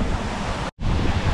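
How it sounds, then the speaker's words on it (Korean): An Icelandic waterfall in summer roars as a steady, broad rushing wash heard close by, broken by a brief gap of silence. "바로 옆에 다른 폭포가 있어서 여기도 한번"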